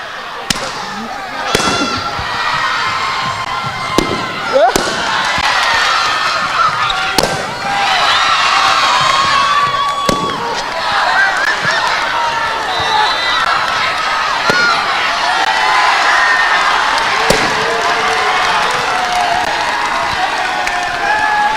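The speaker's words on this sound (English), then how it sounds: "you got to cheer for your group" Students at a freshman and new student orientation cheer for their group, a loud sustained crowd roar of shouts and whoops with scattered sharp claps and yells running throughout.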